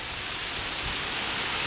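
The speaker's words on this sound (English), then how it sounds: "We have torrential rain, and we are definitely starting to get some wind." Torrential rain during Hurricane Irene in Hampton, Virginia, pours in a dense, steady roar of hissing downpour, close and loud, with faint low gusts of wind underneath and no voices.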